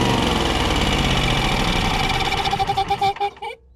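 A failing Generac generator engine runs loud and close with a rough, knocking chug, then sputters unevenly and cuts out at the end.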